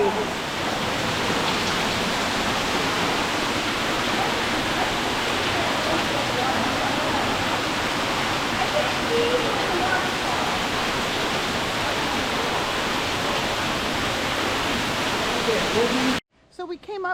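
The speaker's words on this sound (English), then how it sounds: "And now we're going to walk right behind this waterfall." Cavern Cascade waterfall in the gorge at Watkins Glen State Park, heard up close from the trail behind it as a loud, constant broadband roar of falling water that cuts off abruptly at the end.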